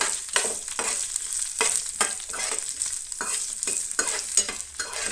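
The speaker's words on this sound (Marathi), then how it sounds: "बरेंशें मातशें परतून घेतलें" Peppers and spices roasting in a pan while being stirred, a close, continuous dry sizzle broken by rhythmic scraping strokes of a spatula throughout.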